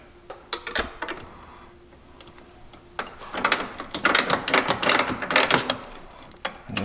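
Someone tightens half-inch bolts with a ratchet while fitting Bent Metal EZ Hold door struts on a Can-Am Maverick X3. After a few scattered clicks and knocks, a run of quick, close ratcheting clicks starts partway through.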